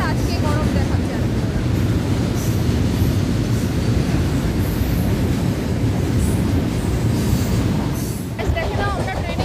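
A passenger train heading to Bolpur rumbles along at a steady pace, its dense, continuous rattle and rolling wheel noise heard from inside the carriage, with faint murmurs and some brief high squeals near the end.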